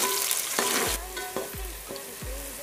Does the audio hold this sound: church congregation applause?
no